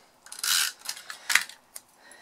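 Scissors snip through card around a small sentiment in a few short, close, quiet cuts, with light rubbing sounds of the paper between them.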